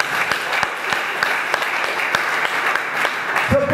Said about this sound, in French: Acclamons le Seigneur notre Dieu.